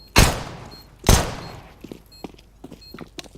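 Two loud gunshots in a video game, the second about a second after the first, followed by quieter scattered thumps and clicks of in-game movement.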